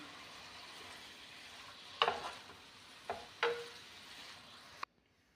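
A spatula stirs leafy greens with a salt-and-chili masala tadka in a pan, making a few distinct scraping clatters over a low, quiet sizzle before the sound cuts off abruptly.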